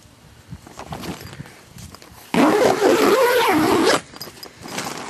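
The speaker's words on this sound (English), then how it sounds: "I can unzip my little windows" A zipper is pulled open on a small window in the fabric cover of a cold frame. It makes one loud, steady rasp of about a second and a half, close by, between quieter rustling.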